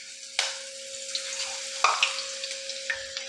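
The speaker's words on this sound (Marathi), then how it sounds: "आता त्या गरम झालेल्या तेलामध्ये आपण चटणी बनवण्यासाठी हे अशा पद्धतीने बेसन टाकून घ्यायचं" Gram flour (besan) is frying in hot oil for a vada pav chutney, with a steady sizzle and a few sharp scraping stir strokes, close and fairly quiet, with no talking.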